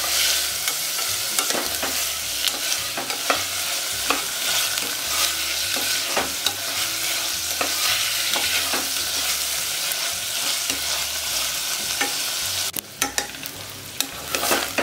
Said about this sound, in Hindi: और चने को भी इसी तरह से फ्राई कर देती हूँ।